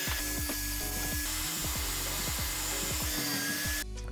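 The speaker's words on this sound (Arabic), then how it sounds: "بدأت افرز في القطع وانضفها واقصها على منشار الترابيزة لمقاسات التصميم اللي انا عملته" A table saw cuts pieces of old wooden shutters, a steady loud whine with repeating bursts as the blade bites the wood, cutting off sharply near the end.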